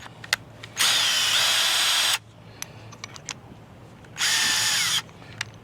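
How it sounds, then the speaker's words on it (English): Two bursts of a power drill whirring as it drills drainage holes in the bottom of a container, the first longer than the second, separated by small clicks and handling knocks in a quiet room. "We're going to drill a few holes in the bottom of it so the water can drain"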